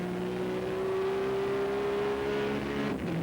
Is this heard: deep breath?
no